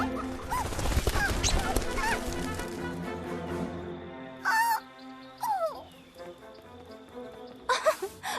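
Honking goose-like bird calls in an animated film, several short loud squawks with rising and falling pitch, separated by pauses over a background of music and ambience.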